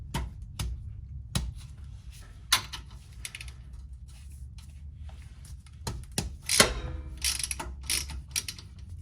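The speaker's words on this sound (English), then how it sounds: "I'm removing it with my ratchet." A ratchet wrench clicks in short bursts as it backs out the rear differential drain plug on a 2004-2007 Subaru WRX STI, the irregular metallic ratcheting close by over a low background hum.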